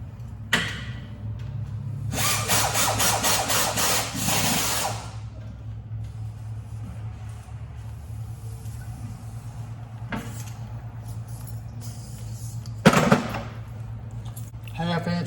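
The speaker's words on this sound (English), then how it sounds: "Half-inch ratchet with an extension to work the AC tensioner" Half-inch ratchet with an extension cranking the AC belt tensioner on a Ford F150 5.0, a close burst of rapid clicking lasting a few seconds, then a brief second burst later over a low steady hum.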